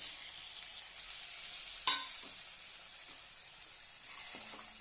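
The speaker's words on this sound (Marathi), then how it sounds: "छानपैकी परतून घेऊया" Salt, turmeric, coriander powder, red chilli and black masala sauté in a pan for dal, a soft, even sizzle with one sharp clink of a spoon midway and a faint scrape later, without talk.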